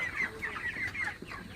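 Broiler chickens on a poultry farm in hot weather clucking in a short burst, several soft overlapping clucks and squawks at moderate distance with no talk.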